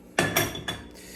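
Metal cooking pot for rice being handled in a home kitchen, three sharp clanks within the first second, close and fairly loud, ringing briefly then fading into quiet.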